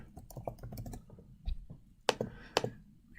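Keys clatter on a computer keyboard in short irregular bursts of close, crisp taps, with a couple of sharper louder strokes toward the end and quiet gaps between.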